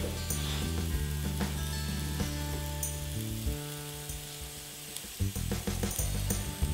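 Eggs hit a hot pan and sizzle steadily, a close frying hiss with a few stirring scrapes near the end, in a kitchen making a post-workout detox dish with nuts.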